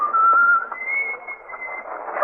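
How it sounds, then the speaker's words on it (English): A man whistles a jaunty tune while walking down the crowded Haymarket in London's West End in an old-time radio drama, a clear, steady melodic whistle heard alone and close. "whistling a jaunty tune..."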